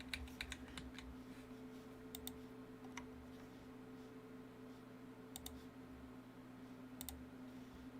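Short runs of crisp keyboard clicks, a few rapid taps then pauses, quiet and near against a constant low hum, with no voices.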